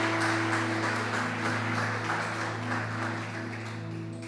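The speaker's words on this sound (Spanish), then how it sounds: "Vamos a dar un aplauso de alabanza a nuestro Señor Jesucristo." Congregation at Iglesia El Poblado Misión Cristiana clapping in praise of Jesus Christ during a morning church service, a steady wash of applause over sustained organ or keyboard tones, filling the room evenly throughout.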